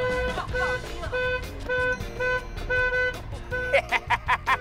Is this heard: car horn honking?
yes